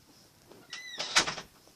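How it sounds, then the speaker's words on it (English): A room door is pushed shut, a brief creak followed by a solid latching thump and a short rattle, fairly close and moderately loud against a quiet background. "Sorry, I had to close my door."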